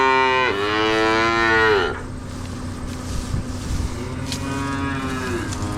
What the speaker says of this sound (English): But this calf has some strength to her.